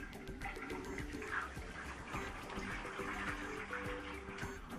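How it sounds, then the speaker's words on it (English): A basin of water is dumped into a sink, giving a steady splashing, gurgling pour with trickling drain sounds that runs continuously at moderate level. "I'm just going to go ahead and dump my water."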